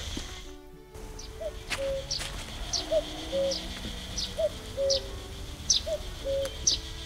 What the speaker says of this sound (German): Hier haben wir ein paar Vögelchen.